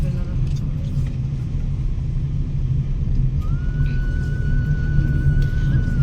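A car rolling slowly downhill on a road, its engine giving a steady low rumble throughout with a faint higher whine later on, close and continuous.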